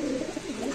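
Pigeons coo softly in a brief burst of low, rolling calls at a pigeon market where birds are sold, with no talking over them.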